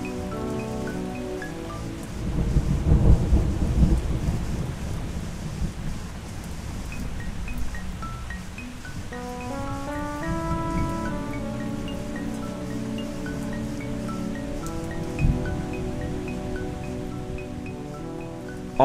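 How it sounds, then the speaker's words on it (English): Steady rain with rolling thunder, set as a loop in Band-in-a-Box, plays alongside MIDI instrument notes; a deep rumble swells early and recurs under the continuous hiss of rain. "with the rain and thunder loop which has been put on the guitar track."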